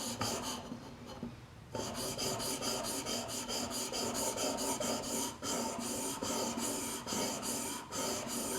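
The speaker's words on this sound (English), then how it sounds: "the initial sharpening I'm going to do with this jig because it was hard to reference the bevel with that hump" Japanese chisel sharpened in a honing jig, a steady close rasping scrape of steel stroked back and forth on a stone in a continuous rhythmic run with a brief pause early on.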